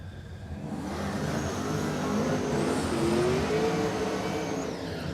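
Ford Mustang and Ford Fairlane drag race cars at a drag strip, engines roaring loudly and steadily with a rising rev swelling over a few seconds, with no talk.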